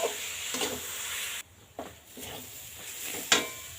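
Motichur laddu mixture being stirred in a pan over low gas heat, with soft scraping and a faint sizzle that fade out and return, close and alone.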